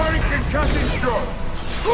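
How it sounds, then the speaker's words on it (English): A concussion shot fired in Mass Effect 2 amid a firefight, a booming blast with mechanical clatter and combat noise, while voices talk over it. "Firing concussion shot!"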